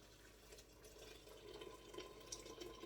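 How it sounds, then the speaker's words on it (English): Warm water runs into a clay cazuela that is heating, a steady close-up stream with faint dripping and splashing, heard alone with no talk. "So I'm going to fill it with warm water."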